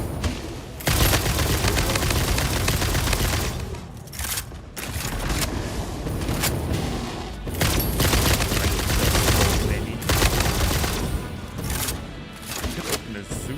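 Dense, loud gunfire from the video game Satisfactory, rapid bursts and volleys running almost continuously with brief gaps, close and dominant.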